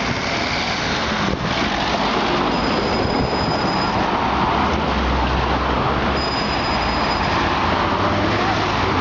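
Street traffic of cars and buses along a city road: a loud, steady roar of passing vehicles with low engine rumble and a faint high squeal, close and continuous throughout.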